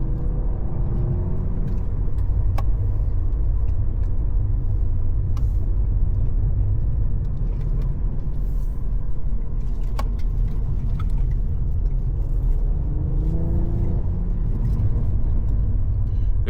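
A 2023 Cadillac CT4-V Blackwing drives over a winter road with gravel, heard from inside the cabin as a loud, steady, deep engine and road rumble with the occasional faint click or rattle and no talking.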